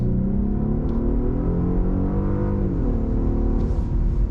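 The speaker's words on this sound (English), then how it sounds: "Let's put the G80 in Sport Plus mode and throttle it." A Genesis G80 luxury sedan accelerates in Sport Plus mode, a steady engine drone with some augmented sound that climbs in pitch, dips briefly at a gear change, then keeps rising, heard from inside the car without talk.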